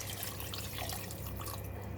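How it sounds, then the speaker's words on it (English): About 400 ml of water being poured into a pot of pig trotters, a steady splashing gurgle with faint dripping, close and unbroken for the whole moment. "I'm going to add in another 400 ml of water"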